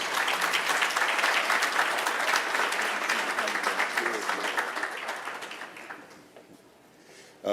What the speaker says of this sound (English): Ladies and gentlemen, please give them a warm round of applause.